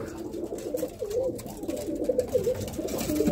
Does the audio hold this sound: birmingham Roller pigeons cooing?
yes